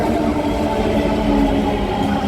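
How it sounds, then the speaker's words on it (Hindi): Delhi Metro Pink Line train pulling into a station platform, a loud, steady rumble and hum of the cars rolling in close by with no voices over it. "मेट्रो आ गई है।"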